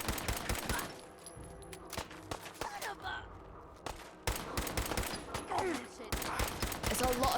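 Heavy-recoil gunfire in Fallout 4 comes in several loud rapid bursts separated by short pauses, sharp close cracks with echoing tails, while people talk faintly beneath the shooting.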